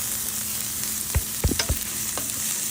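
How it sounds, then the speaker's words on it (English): Red onions sauté in a pan for shrimp pasta, a steady low sizzle under a few distinct spoon scrapes and taps close by, with no talking. "we're gonna saute up this real nicely now"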